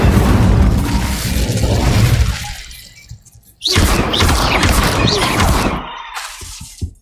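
Repeated Incendio fire spells cast in Hogwarts Legacy, loud bursts of crackling, shattering magical fire with a roaring boom, cutting out briefly before another blast and fading crackles.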